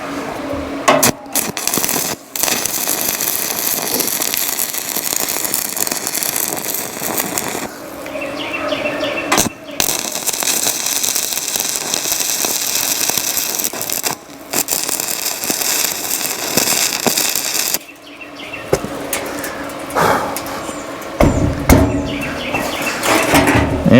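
A cheap mini stick welder burns through a thin metal barrel lid, giving a loud, continuous crackling sizzle with brief stops between runs.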